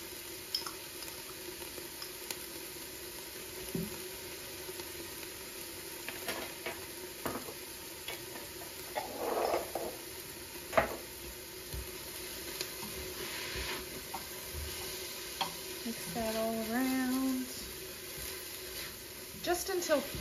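Garlic cloves sautéing in an Instant Pot give a quiet, steady sizzle with scattered stirring clicks across the whole stretch, and a faint voice comes and goes over it.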